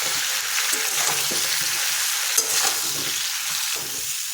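Cauliflower pieces tossed with turmeric and salt fry in an open pan, a loud, continuous close sizzle with soft scraping stirs and no talk.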